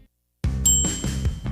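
A single bright ding rings out over a low rumbling commercial bed, marking a KFC chicken sandwich order, with a sustained high tone that fades as short rhythmic thumps continue underneath.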